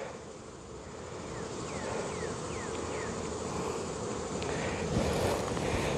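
Honey bees buzz steadily around beehive boxes outdoors, a dense hum from many insects holding at moderate loudness for the whole stretch, with a few higher individual whines passing close.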